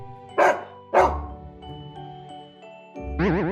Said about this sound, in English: D is for dog.